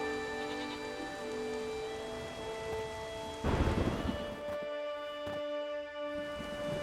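Steady rain falls in The Witcher 3 while a sharp crack of thunder breaks in midway and rolls off. Sustained tonal music plays underneath and no one speaks.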